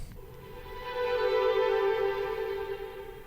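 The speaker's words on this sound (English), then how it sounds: "And then we've got the strings." Unprocessed string section layer playing a smooth sustained chord that swells gently to a fuller middle and eases slightly at the end, clean and alone at modest volume.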